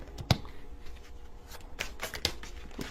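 Tarot cards shuffled by hand during a card reading, a few sharp riffling bursts and soft slides spread over a couple of seconds, close and fairly quiet with no talk.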